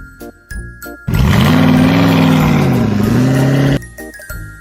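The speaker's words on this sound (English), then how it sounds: "So what sound does a jeep make? A jeep goes." A jeep engine sound for kids, a loud roaring vroom lasting a few seconds with pitch dipping and rising, between short jingly musical sounds before and after.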